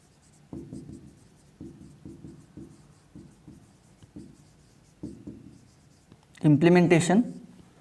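Pen strokes scratch across paper while a full subtractor circuit diagram is drawn, a run of short, rhythmic scribbles at close range, closing with a louder, denser burst of marking near the end.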